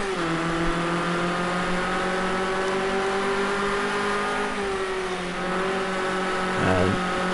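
An Escort RS 1600 race car's engine drones steadily at high revs around Laguna Seca in NXTGEN racing, with the pitch dipping briefly as it shifts and then climbing again.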